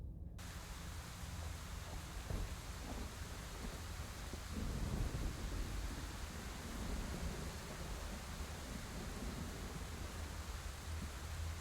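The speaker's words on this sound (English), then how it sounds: "You're outside. It's raining." Steady rain falling outdoors in the video game Scarlet Hollow, a dense even hiss with a low rumbling undertone throughout, continuous and enveloping, with no voices.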